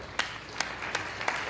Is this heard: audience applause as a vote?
yes